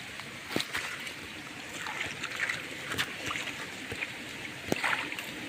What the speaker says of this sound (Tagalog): Malakas naman pala yung tubig.